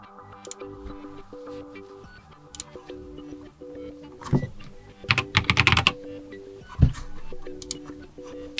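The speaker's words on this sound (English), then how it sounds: "before I start actually trying to type it in" Quick taps entering a password on the touchscreen keyboard of a Lenovo Tab E10 tablet, scattered and uneven, with a denser burst of clicks near the middle, over a soft steady tonal background.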